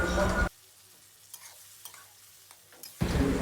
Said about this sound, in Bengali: এবার আমরা ডালটা এর মধ্যে দিয়ে দিলাম